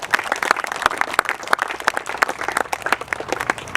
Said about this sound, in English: we'll take the applause